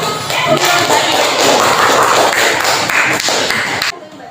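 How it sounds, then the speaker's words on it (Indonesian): A classroom group applauding a student team, giving dense, loud clapping for about four seconds that stops abruptly. "sekarang berikan aplaus dulu untuk kelompok 1"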